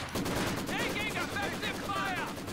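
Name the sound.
Maxim machine gun fire in video game Company of Heroes 2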